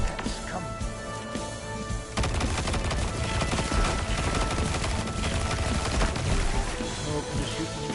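Rapid gunfire from the video game Destiny 2, a quieter stretch giving way to dense, continuous bursts of shots layered with game effects, loud and sustained.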